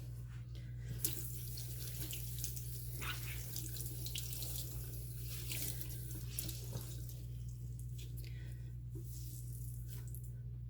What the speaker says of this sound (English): I can see there's still soap in there, so I'm going to give it one quick rinse